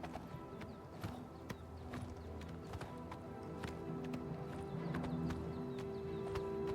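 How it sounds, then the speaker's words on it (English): Horses galloping in Oblivion Remastered, a quick run of hoof clip-clops, fairly faint but steady and growing a little louder toward the end, with no voices over it. "Can we get off the horses here?"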